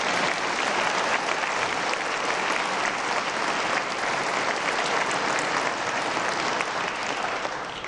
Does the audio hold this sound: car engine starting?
no